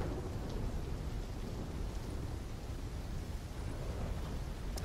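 Thunderstorm in the video game Black Ops 3, with heavy rain hissing steadily and a deep rumble of thunder rolling continuously underneath, no voices present.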